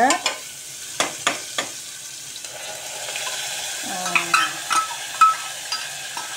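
Onion and tomato paste hits a hot pan and is stirred, with sharp clacks of a spoon against the pot at first and then a softer sizzle and scraping, close and without voices.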